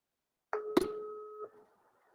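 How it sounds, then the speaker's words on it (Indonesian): A telephone gives a single dialing tone: one steady two-note beep lasting about a second, with a soft click partway through. The beep stands alone against silence. "Saya telepon dulu."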